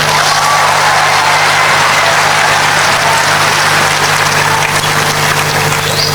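Sustained audience applause at a political stand-up comedy show in Indonesia, loud, dense and continuous throughout with scattered claps and crowd noise.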